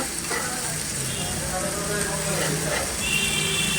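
Eggs fry in hot oil with a cooked spice paste, making a continuous close sizzle and crackle that stays steady throughout, while a voice speaks quietly underneath.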